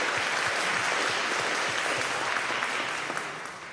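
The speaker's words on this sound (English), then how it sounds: "We could give him a round of applause" An organ concert audience gives a round of applause, a full, even wash of many hands clapping that holds steady for a few seconds before tapering off at the end.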